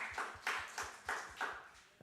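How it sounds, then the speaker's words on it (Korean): Faint, distant clapping from a small group at a church youth worship service, a handful of soft, rhythmic claps in quick succession that fade out after about two seconds. "우리 하진이를 위해서 박수 한번"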